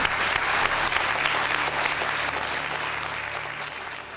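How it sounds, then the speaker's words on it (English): Audience applauding children who have just been handed small Christmas parcels, a steady wash of clapping that holds at an even level for the full length and fades slightly toward the end, with no voices over it. "So give them a big round of applause."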